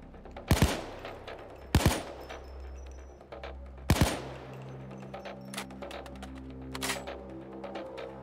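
Three sharp, loud gunshots from the VR heist shooter Payday 2 ring out at uneven intervals, each cracking hard then fading, with fainter clicks and game sounds between them.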